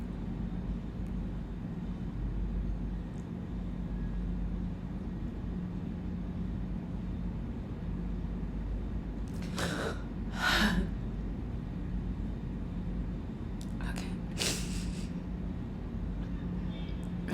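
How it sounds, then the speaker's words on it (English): Slow, deep breathing, in and out, fairly close and quiet: two full breath cycles rise and fall over a low, steady background hum. "Okay, I need to breathe."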